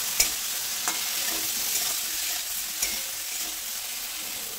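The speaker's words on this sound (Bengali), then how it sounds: "এবার আলু বেগুন একসঙ্গে আরও 2-3 মিনিট ভেজে নেব।" Potato and eggplant frying together in a pan with salt and turmeric, an even close sizzle with a few faint spatula taps, no voices.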